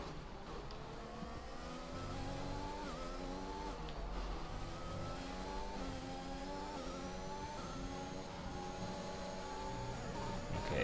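F1 2021 race car engine with a faulty gearbox that skips gears, droning steadily at high revs with shifting harmonic bands, loud and close throughout with no talk.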